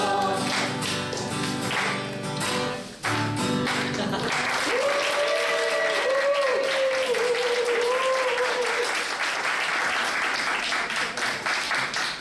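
A church congregation at a Sunday young-adult worship service claps in a sustained round of applause, with music and singing fading first, then a bright sustained tone ringing over the steady clapping.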